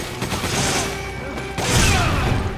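Explosion in the Resident Evil 5 co-op video game, a loud blast right in front of the player: a broad crashing burst that swells, dips, then surges again with a rumbling low end and crackling debris.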